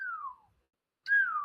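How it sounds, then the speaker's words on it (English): A person whistles two descending tones separated by a short silence, clear and close, with no talk over them. "it's not chirps, it's a whistle"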